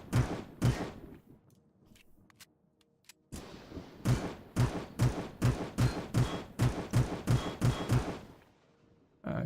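Repeated gunfire in the sci-fi survival game Empyrion as shots hammer a drone base core: a couple of early blasts, a pause with faint clicks, then a steady run of about a dozen loud, punchy reports with no talking.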